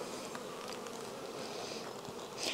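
Honey bees hum steadily on a brood frame of pupating bees pulled from a hive during a frame check, a soft continuous close buzz with a brief louder rise near the end.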